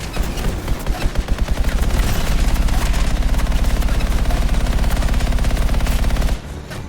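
Rapid automatic machine gun fire in the video game Anthem, a loud continuous stream of shots that builds after a few spaced bursts and cuts off abruptly near the end.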